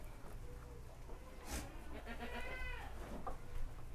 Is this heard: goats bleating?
yes